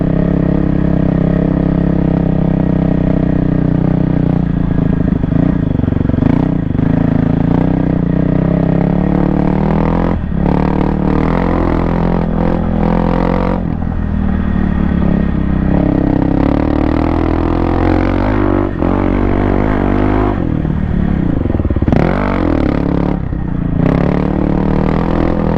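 A 2024 Kawasaki KLX300R dirt bike rides steadily off a moto track up onto single track, its engine droning continuously with throttle surges, close and loud, with occasional clatter and scrape of terrain.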